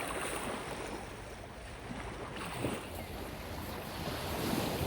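Sea waves wash onto an empty beach in Muscat, Oman, a soft, steady surf roar with gentle swells, mixed with wind buffeting the microphone.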